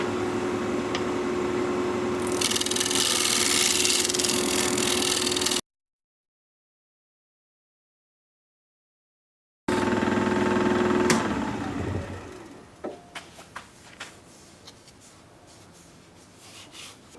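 A wood lathe spins a plum live edge bowl with a steady mechanical hum and a tone under a scraping, rubbing tool. The sound cuts out briefly, returns, then the motor winds down to scattered taps and clicks.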